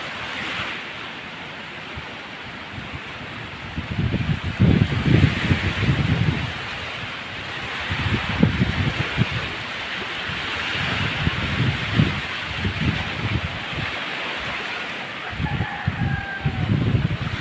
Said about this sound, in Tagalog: Grabe ka hangin ug ang balud guys.